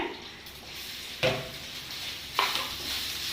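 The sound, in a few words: sautéing in a pan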